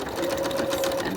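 A sewing machine stitching a cloth mask with a replaceable filter, a brief continuous motor whir with rapid needle chatter, close and steady.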